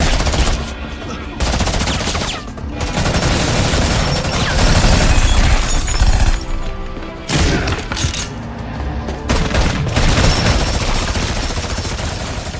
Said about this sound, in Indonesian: Hingga tak lama kemudian Payu datang, dan terjadilah pertempuran